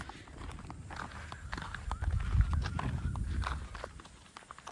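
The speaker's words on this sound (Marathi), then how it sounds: "तुम्ही बघू शकता आपले गाववाले दशरथ दादा कसे बैल हकलतात" Bullocks driven along a village track by a villager, with a scuffle of hooves and footsteps building to a louder middle before fading, plus scattered knocks and rustling outdoors.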